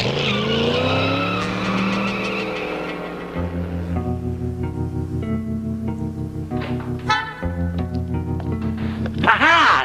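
Car tires skidding and squealing as a car is parked in a 1960s sitcom scene, with a sustained screech, a quick second squeal near the end and music or engine hum beneath.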